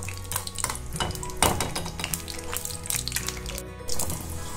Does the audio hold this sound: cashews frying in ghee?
yes